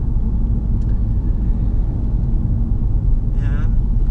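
Steady in-cabin rumble of a car driving in a straight line on the road, a constant low engine and road drone at even loudness with no change in pace, plus a brief faint chirp near the end.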